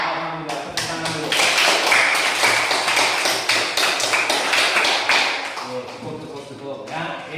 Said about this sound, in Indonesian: Alhamdulillah, tepuk tangan dulu.